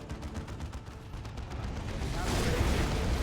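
Cannon Predator tank firing in Dawn of War 2: Retribution, a rapid string of booming cannon shots and blasts that swell into a louder, denser barrage toward the end, mixed with battle noise.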